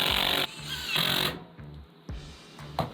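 Power saw cutting pieces for a concrete fire pit insert, loud whining bursts of cutting interrupted by short pauses and lower motor idling between cuts.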